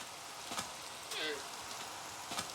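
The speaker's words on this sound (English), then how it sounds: "Why is it raining?" Rain falling in the Minecraft video game, a steady soft hiss of drops with a few brief louder crackles, moderately faint and without talk.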